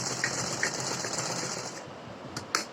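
A sewing machine runs steadily, stitching pleated lace for a tiny doll-sized dress, a continuous close mechanical whir that stops near the end, followed by a couple of brief clicks.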